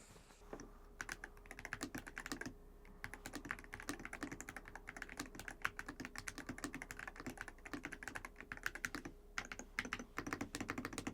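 Rapid, uneven keystrokes clatter on an RK Royal Kludge C87 mechanical keyboard, a quiet, close, continuous run of crisp clicks with small pauses and no voices.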